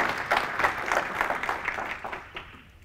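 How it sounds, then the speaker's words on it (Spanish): A congregation at a Catholic prayer gathering claps together, a rhythmic pattern of collective claps that gradually fades and thins toward the end. "Fuertes aplausos a Jesús por su amor y su misericordia"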